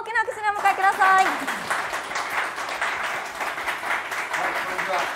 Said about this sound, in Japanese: 大きな拍手でお迎えください。